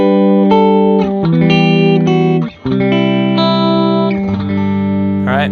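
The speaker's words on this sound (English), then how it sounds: "I'm playing my Les Paul into a Matchless Clubman," Clean, undistorted electric guitar, a Les Paul played through a Matchless Clubman amp, sustained chords and single notes ringing out with a brief gap midway, dry with no effects.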